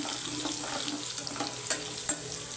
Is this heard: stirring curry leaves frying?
yes